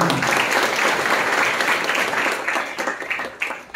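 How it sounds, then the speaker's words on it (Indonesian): A church congregation claps in sustained, loud applause during a Sunday service, gradually thinning out toward the end. "Tepuk tangan bagi Yesus."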